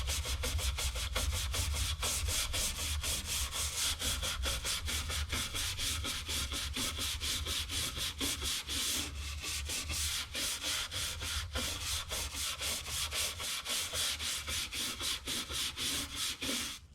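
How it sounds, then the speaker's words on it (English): A scrub brush works back and forth over a bleached oak tabletop marked by a burn stain, giving steady rapid rasping strokes that continue without a break, close and fairly quiet, with nobody speaking. "Let's try a scrub brush"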